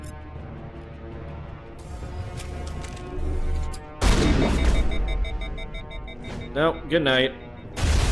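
Grenade blast and gunfire during Mass Effect combat, a loud broadband crash near the midpoint followed by bursts of shots and sci-fi weapon tones, with people talking over the action throughout.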